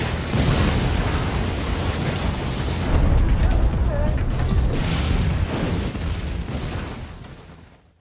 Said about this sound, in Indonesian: tiba-tiba mobil itu mengalami ledakan kecil